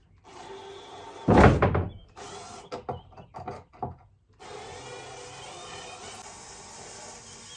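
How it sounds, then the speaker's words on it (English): Close clunks, knocks and scraping as old screws are worked loose from a wooden desk, with a loud bump near the start and a steady hiss after. "Let's see if these old screws will come out."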